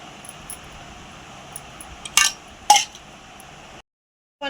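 A spoon stirs tamarind pulp through cooked rice for pulihora in a metal pot. Two sharp, bright clinks ring out over a faint steady hum, then the clip falls silent.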